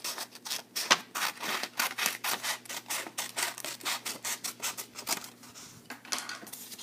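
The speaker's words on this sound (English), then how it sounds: "Take your scissors, cut off those conclusion questions." Rapid, rhythmic snipping and rustling of scissors cutting through paper, many quick strokes in a row, close by.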